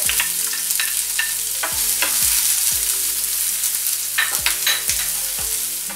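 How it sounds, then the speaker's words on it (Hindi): Mustard seeds and cumin crackle in two spoons of hot oil as a kachori dish is started, giving a continuous sizzle broken by sharp pops and spatters, close and fairly loud, with no voices. "2 चम्मच ऑयल इसमें डालते हैं। राई और जीरा। राई तड़तड़ाने के बाद प्याज डालेंगे।"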